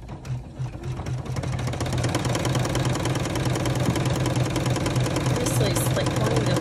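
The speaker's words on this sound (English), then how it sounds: "now we're gonna run the top stitch" A sewing machine running a long top stitch on a clutch bag panel, with a rapid, steady mechanical chatter that starts and then holds loud and close through the end.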